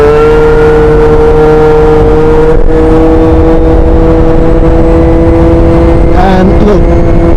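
A motorbike fitted with a Yasuni aftermarket exhaust pipe pulls hard, its loud steady engine drone holding close and continuous with a slight rise in pitch near the end.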